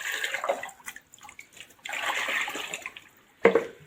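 Potash fertilizer is stirred by hand into water for lemon tree care, giving bursts of sloshing and splashing with quieter gaps, ending in a sharp splash.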